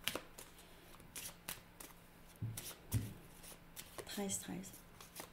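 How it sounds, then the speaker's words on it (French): Tarot cards shuffled and drawn by hand in short papery riffles and slides, close and soft, with a quiet voice speaking briefly partway through. "Je vais juste prendre une de mes cartes et je vais clarifier avec mes tarots."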